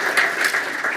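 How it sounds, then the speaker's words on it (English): Audience applause at a Canadian Club luncheon event, a short burst of steady, moderately loud clapping from a room of guests, with no voices over it. "Do a little clap."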